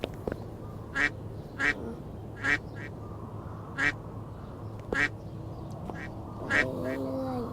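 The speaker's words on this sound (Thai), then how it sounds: "ทุกคนมันคือนก หรือว่ามันคือเป็ด" Repeated quacking calls from a duck or bird character in a Roblox game, about six short calls spaced irregularly at moderate loudness over a steady low background hum.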